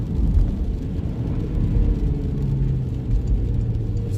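A Porsche Macan's four-cylinder engine hums as a steady low rumble while driving, heard from inside the cabin, continuous and even with no voices.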